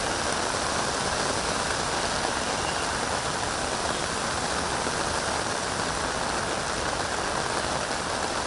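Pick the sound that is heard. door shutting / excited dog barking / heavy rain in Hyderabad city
heavy rain in Hyderabad city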